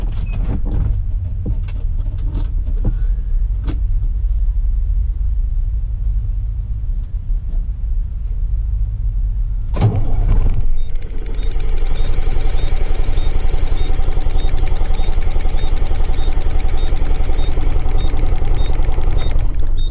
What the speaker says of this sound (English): It usually starts on the 17th or 18th second of cranking.